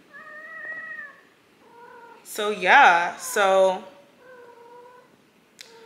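A female cat in heat meows loudly and close by in a few drawn-out, wavering yowls, while someone speaks softly between the calls.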